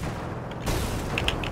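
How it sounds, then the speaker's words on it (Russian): Gunfire in the video game Ravenfield, a dull boom followed by a sustained burst of shots with sharp clanking hits near the end, fairly loud and close. "Это по мне стрельба."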